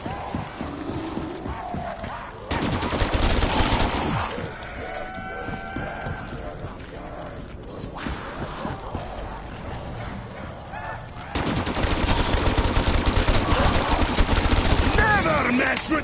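Gunfire in a zombie video game: rapid automatic bursts, loud and dense, opening around the third second and returning for a long sustained stretch near the end, with quieter game noises and someone talking between the volleys.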